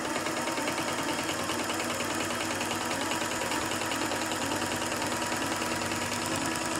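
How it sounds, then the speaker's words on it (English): A computerised quilting machine stitches an applique with a raised double stitch, giving a fast, steady, evenly rhythmic mechanical chatter that runs continuously with no voices. "So we'll hit start and then we can watch it sewing."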